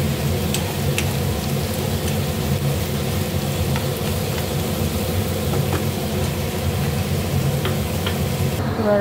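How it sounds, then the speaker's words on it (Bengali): Onions with a pinch of salt frying in a pan for mashed potato bhorta, giving a steady dense sizzle at even loudness throughout, with a few faint clicks and no talk. "লাল লাল করে ভাজবো পেঁয়াজটা।"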